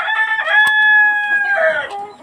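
A Sonali hen on a small layer farm lets out a loud, drawn-out call framed by short clucks, close by and alone.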